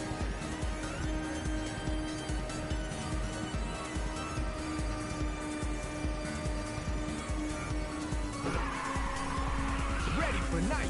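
Ridge Racer 2 on PSP, a car drifting with continuous engine drone and steady tire squeal throughout, loud and close, with a sharper screech near the end.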